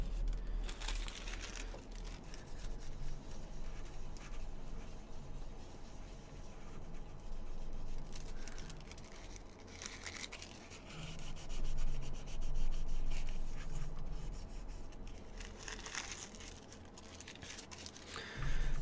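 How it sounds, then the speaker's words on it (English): Thermal paste being wiped from a PC component with a coffee filter dampened with isopropyl alcohol gives close, steady rubbing and scrubbing strokes that rise and fall in bursts, with light paper crinkles and no talking. "Coffee filters, isopropyl alcohol. All you need to clean off thermal paste."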